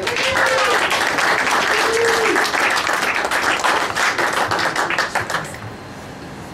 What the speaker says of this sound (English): Nice round of applause for Carmen